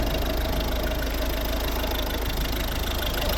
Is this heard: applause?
no